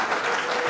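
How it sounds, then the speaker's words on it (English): A brief burst of audience applause, many hands clapping together at once. "They wanted to clap."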